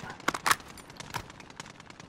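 Gunfire in the video game Warzone, a few sharp shots in quick succession followed by scattered softer bursts, mid-distance and fairly loud, with a voice talking alongside.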